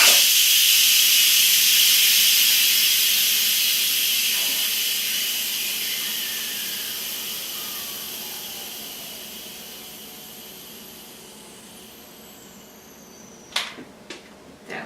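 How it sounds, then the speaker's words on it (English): Instant Pot venting steam pressure after cooking spaghetti squash: a loud, steady hiss that slowly fades over about twelve seconds, then a few short sharp clicks near the end, no talking. "let me show you letting the pressure down"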